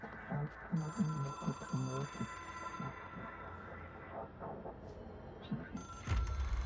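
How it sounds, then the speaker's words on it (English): Old-style telephone bell ringing in the game Control, a rapid trilling ring in short repeated bursts heard faintly behind ambient hum and a few quiet voices. "I hear the phone ringing."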